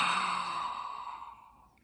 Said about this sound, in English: an exhale out the mouth